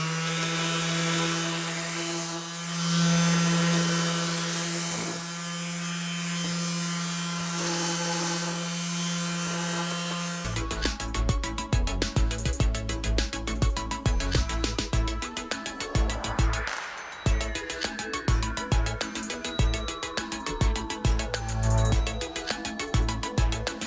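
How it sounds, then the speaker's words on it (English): Power saw cutting wooden boards for robot bumpers, a loud steady whine for about ten seconds, then rapid rhythmic buzzing strokes through the wood that continue to the end, with no talking. "now that we're hopefully done sawing"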